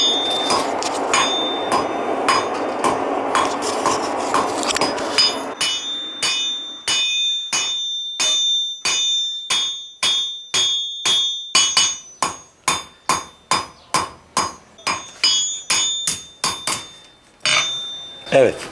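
Hammer blows on hot iron as a Turkish Tapan-style knife is forged in Kozan, a dense flurry of strikes giving way to steady, ringing, evenly spaced metallic hits, loud and close, with faint talk underneath.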